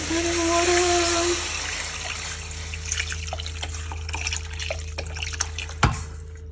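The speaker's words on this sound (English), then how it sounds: "Now we're adding water." Water pours into a pot of Cameroonian groundnut stew, a steady trickle at first that fades into scattered drips and small clinks against a faint kitchen hum.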